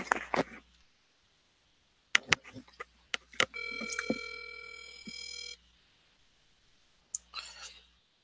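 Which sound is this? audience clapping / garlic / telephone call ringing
telephone call ringing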